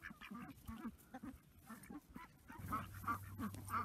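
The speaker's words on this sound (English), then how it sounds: "These ducks are pretty happy. They enjoy the snow." A small group of homestead ducks quacks repeatedly and busily outdoors in the snow in subzero winter cold, with overlapping nasal calls at moderate distance and a low hum joining partway through.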